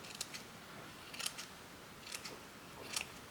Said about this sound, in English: I'm just going to trim these little bits off.